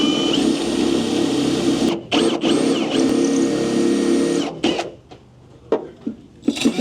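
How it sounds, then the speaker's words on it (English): Power drill boring into a steel heavy-duty bed mount repair bracket for a 2nd or 3rd generation Nissan Frontier truck, a steady loud whine running nearly two seconds, a brief break, then another long sustained run before stopping, followed by scattered handling clatter. "We'll get her drilled"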